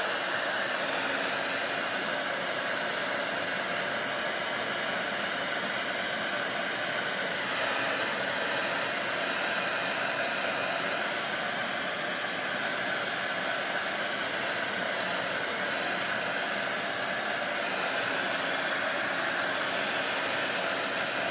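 A hair dryer blows steadily and loudly for a long stretch to dry a freshly painted board, a constant even whoosh with no pauses and no voices.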